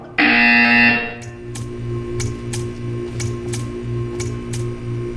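A loud, harsh electronic buzzer blares for about a second in the video game Portal 2, followed by a rhythmic mechanical ticking and clicking pattern with a low pulsing hum.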